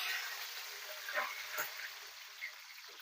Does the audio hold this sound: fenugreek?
yes